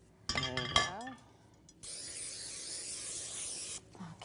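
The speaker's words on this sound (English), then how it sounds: "If you could spray those 2 pans" Cooking spray hissing onto two pizza pans, one steady close spray burst lasting about two seconds, preceded by a brief spoken exchange and light clinks.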